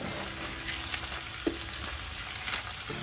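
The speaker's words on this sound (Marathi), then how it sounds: "आता अगदी व्यवस्थित अशी तेलामध्ये आपण मसूर जी आहे ती व्यवस्थित अशी परतून घेतली" Sprouted whole masoor lentils sauté in hot oil in a pan, a soft, steady sizzle with a few faint stirring clicks, quiet and close, no voice.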